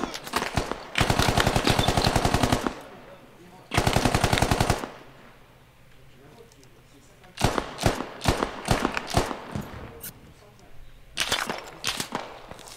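Gunfire in the video game Squad: long bursts of automatic fire alternate with shorter clusters of single shots, loud and close, with quiet gaps between them and brief talk.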